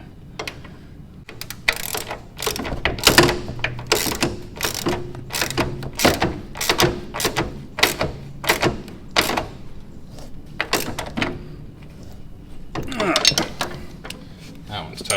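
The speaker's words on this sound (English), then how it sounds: "I'm going to hold the top with my wrench, and I'll tighten the bottom with my socket." A socket and wrench tighten a bolt on the carburetor of a riding mower, giving a long series of sharp metallic ratchet clicks and clanks in an irregular rhythm, close and fairly loud.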